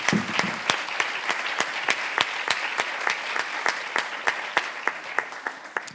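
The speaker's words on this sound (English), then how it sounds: "Let's give an applause to the fellows." Conference audience applauding at the close of an architecture panel, a steady wash of many hands clapping with distinct sharp claps popping out, moderately loud and continuous throughout.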